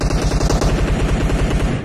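Rapid, loud automatic gunfire from a death match video game, with a dense continuous burst of shots close up and no talk over it.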